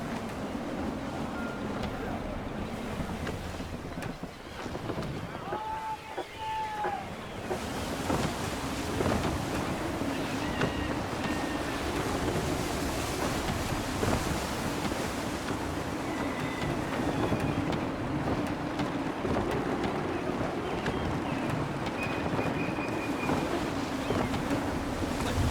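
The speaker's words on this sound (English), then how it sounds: "Wind looks to be shifting. Stay alert, Connor. Gusty winds can be difficult to manage." Gusty wind sweeps across the open sea aboard a sailing ship in Assassin's Creed III, a loud, steady rushing roar with waves washing against the hull throughout.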